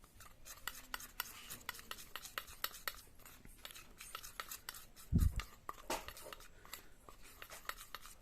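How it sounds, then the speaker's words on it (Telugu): A teaspoon mixes nutmeg powder into thick honey in a small dish, making rapid, quiet clicks and scrapes close by, with one louder knock partway through. "జాజికాయ చూర్ణము ఈ రెండు కూడా ఒక వన్ టీ స్పూను మంచి పట్టు తేనెలో ఇలా బాగా మిక్స్ చేయండి"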